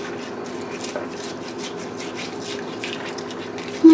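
Hot water poured over food in a cooking pot, a steady soft splashing pour that runs continuously at moderate level, with a brief louder clunk at the very end.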